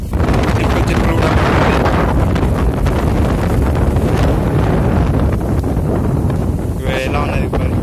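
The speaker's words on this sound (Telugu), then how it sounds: "ఎలా ఉన్నది గాలి, ఎలా ఉన్నది చూడండి." Strong gusting wind roars across an open farm field during a storm with rain coming, buffeting the microphone loudly and continuously, while a person speaks underneath.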